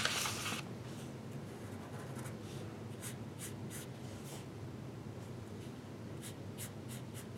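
Pencil drawing a cat on paper, quick close scratchy strokes in short separate bursts with pauses between them, faint and dry, no voices.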